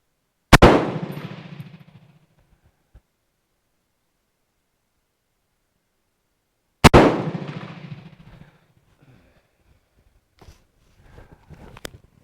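Two loud, sharp rifle shots from a MAS 49/56 crack several seconds apart, each followed by a short ringing decay, with faint clinks and rustles of brass afterward.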